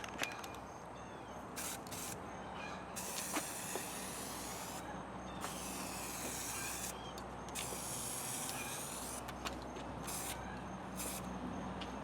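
Aerosol can of primer sprayed onto an HHR SS rear spoiler panel, a steady close hiss in several long bursts separated by brief pauses, with no talking.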